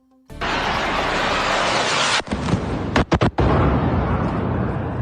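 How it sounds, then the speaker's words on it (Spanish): A sustained roaring rumble of distant explosions in Tehran during an attack, broken by a few sharp cracks and booms, with no voices. "Así han sonado las explosiones en Teherán"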